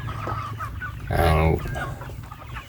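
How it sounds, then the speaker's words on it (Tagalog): Chickens and young chicks clucking inside their coops on a farm, a short burst of fowl calls rising briefly above steady background noise while a person speaks. "at may mga sisiw pa tayong pakakainin natin sa loob ng kanilang mga kulungan"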